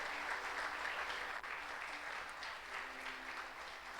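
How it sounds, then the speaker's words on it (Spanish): A church congregation at a thanksgiving service claps together in sustained, even applause, a steady wash of many hands that barely changes in loudness for about four seconds. "Dale fuertes aplausos al Señor."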